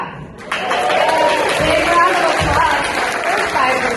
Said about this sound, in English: round of applause for 5 presenters